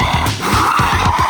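A 93 mph go-kart spins donuts, its tires skidding and squealing in repeated swooping bursts over a steady engine drone, loud and close.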